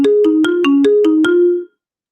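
A phone ringtone plays a quick run of seven bright, melodic electronic notes at an even pace, loud and close, then stops abruptly, leaving silence.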